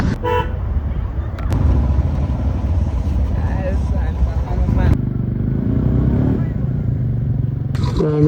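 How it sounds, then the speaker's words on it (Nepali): A motorcycle rumbles on a mountain ride in Dailekh, its engine drone steady and fairly close, with horn toots, clattering and voices talking over it. "हाम्रो बाइक चलाउ रे"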